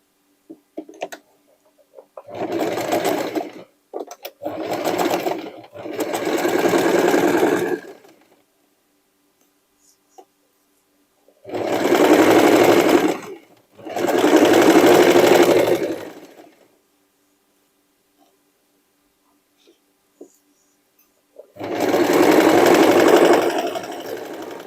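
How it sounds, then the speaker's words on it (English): A sewing machine stitches a dress made from sweatshirt and denim scraps, running in four or five loud bursts of a few seconds each with quiet pauses between, close up and with no talk. "Let's continue to stitch"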